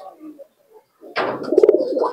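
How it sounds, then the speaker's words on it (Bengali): A crossbred Giribaz pigeon gives a short burst of soft, throaty cooing at close range, following a quiet gap with faint background sounds. "দেখুন একটা ক্রসিং এর পায়রা।"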